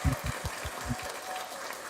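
A church congregation claps rhythmically in acclamation of the Lord during a New Year's Eve service, with a steady run of thumping beats at a moderate distance.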